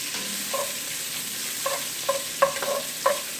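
Bacon fries in a pan for Southern cabbage, a soft constant sizzle broken by a few scraping stirs of a utensil against the pan, with no one speaking.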